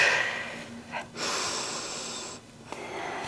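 Deep, audible breathing during a prenatal pilates and barre workout, with long airy inhales and exhales close to the mic, sharp snort-like breaths between them, alone without talk.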